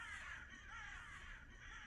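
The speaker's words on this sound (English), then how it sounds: "Starting off with the murder of crows on the windowsill." A flock of crows perched on a windowsill in the horror game Gray Dawn, cawing continuously in a harsh, overlapping chorus at moderate distance, with no talk over them.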